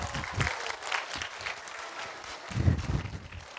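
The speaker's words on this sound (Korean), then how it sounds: "선생님들에게 박수 해줄까요?" An audience in a church claps for the teachers, a short, dense burst of applause that swells near the end, with a few voices mixed in.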